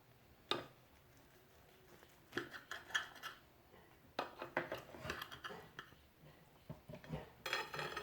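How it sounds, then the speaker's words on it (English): A knife slicing an omelette stuffed with chicken and bell peppers on a plate, giving soft scrapes and light clinks in scattered bursts, close and fairly quiet, with no talking. "And then slice it up."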